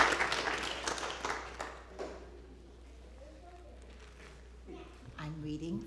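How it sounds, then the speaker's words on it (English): A church congregation at a worship service applauds the children, with a burst of clapping that fades over about two seconds into quieter room sound and then speech. "Let's applaud the kids and the parents and the grandparents."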